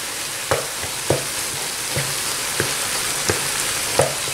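Chicken nem filling with beaten egg being stirred in a hot pan, a steady sizzle with a spoon scraping the pan at irregular intervals, close and alone.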